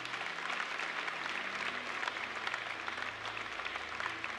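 Applause from a church congregation during an evening service led by a pastor, a steady, moderately distant wash of clapping with no one speaking.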